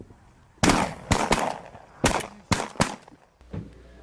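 Several sharp, loud gunshots from hunters firing in close succession, about six cracks spaced irregularly across a few seconds, each with a brief echoing tail, and a faint voice near the end.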